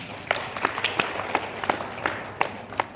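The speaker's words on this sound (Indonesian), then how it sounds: "Sip, tepuk tangan." Scattered clapping from an audience at a Halal bi Halal teachers' gathering, a handful of sharp distinct claps over a low murmuring crowd, sparse and uneven rather than a full ovation.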